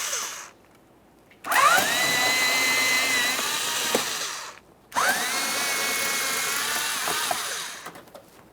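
A power tool backs out 5.5mm bolts from the inner fender liner of a 2004-2008 Ford F-150, giving two long, loud, close whirring runs separated by a short pause.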